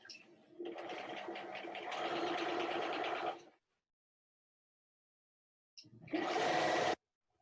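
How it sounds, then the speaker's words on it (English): A sewing machine stitches a quick-cut quilt block from the inside edge outward, running steadily for about three seconds, then stopping, then giving a second short burst, close and clear with no talking. "I'm going to sew from the inside edge towards the outside."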